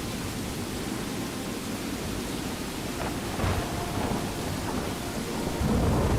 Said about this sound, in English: The stormy nights are terrifying in Permadeath.